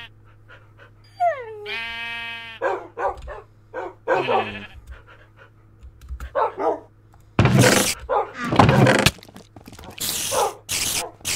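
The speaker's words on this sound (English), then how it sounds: "Dogs." Dogs in the video game Minecraft Skyfactory, heard as a string of short, close barks and yelps in irregular bursts, interspersed with bleating animal calls and quiet gaps.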